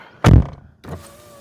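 Electric windows lower in a 2010 Renault Grand Modus dCi: a loud, close thunk as the glass starts moving, then a brief pause and a quieter motor whir as it continues down.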